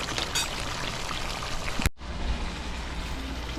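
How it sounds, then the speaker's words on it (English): Seasoned water is poured into pieces of duck frying in hot oil and gravy, giving a continuous close hiss and sizzle with a brief break midway. "Throwing in the seasoned water that I had."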